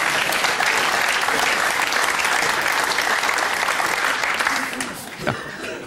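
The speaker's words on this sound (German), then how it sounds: "Warum da jeder klatscht, das weiß ich auch nicht" Audience at a cabaret show gives loud, sustained applause from a full room, with a little laughter mixed in, then the clapping fades and a voice begins speaking near the end.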